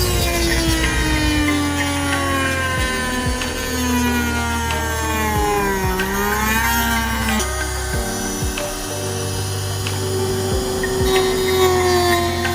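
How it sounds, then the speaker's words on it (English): Dremel rotary tool cutting through a carbon fiber duck tail trunk lid for a G8, a steady close high whine that dips and rises in pitch as the cut loads and eases. "The power of the Dremel can be a little overwhelming sometimes with one."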